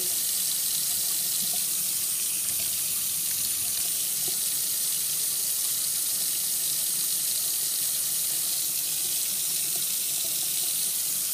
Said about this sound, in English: as you can see the water going in the sink, that's how much water is pumping